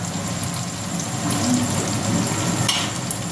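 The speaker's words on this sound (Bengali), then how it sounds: "যেটা ভেজে রেখেছিলাম আলু ফুলকপি সেটা আবার ঢেলে দিলাম" Fried potato and cauliflower tipped back into a hot pan of oil, a continuous close, fairly loud sizzle with a steady frying hiss and no talking.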